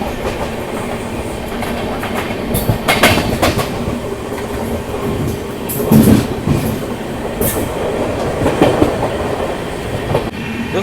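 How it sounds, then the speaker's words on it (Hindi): Rajdhani Express train crossing past at speed near Subedarganj, a steady loud roar of wheels and rail with clickety-clack rhythm and occasional sharp squeals, no talk. "दोस्तों अभी आपने देखा राजधानी एक्सप्रेस का क्रॉसिंग।"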